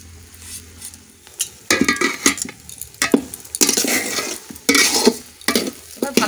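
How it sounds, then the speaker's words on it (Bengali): Jeera rice mixed with a fried spice mix is stirred in a pot with vigorous, irregular scraping and clinking of a spoon against the metal, plus a light sizzle underneath; close and with no voices. "এবার ভালো করে আমি মিশিয়ে নেব।"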